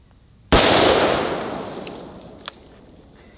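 A single .500 Magnum revolver shot fired outdoors, an abrupt, very loud crack followed by a long fading echo, then a couple of small faint clicks near the end.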